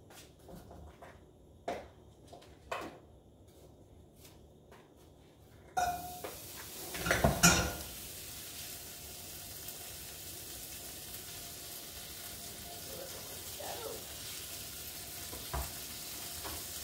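Cornstarch-coated food sautéing in a pan, a steady soft sizzle that begins a few seconds in after some light clinks, with a burst of louder stirring and scraping near the start of the sizzle before it settles into a low constant fry.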